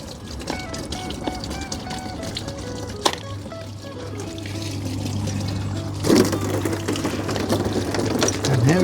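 A pond pump runs with no stones around the outlet, water splashing and pouring steadily over a low motor hum, with a sharp knock near the start and the splashing growing louder toward the end.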